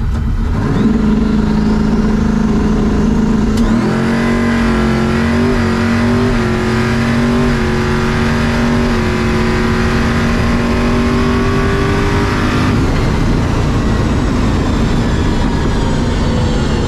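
A drag race car makes a full-throttle run on wastegate boost, its engine loud and close, the pitch climbing steadily through the gears for about nine seconds before lifting off.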